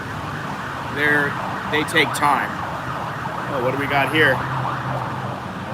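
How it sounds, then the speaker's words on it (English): An ambulance siren wails in rising and falling sweeps, repeating several times under someone talking close by, moderately loud as it passes. "it's an ambulance."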